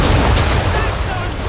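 Ship cannons fire in Assassin's Creed III in a brief, loud, continuous rumble of booming blasts that fills the whole moment, with shouting over it.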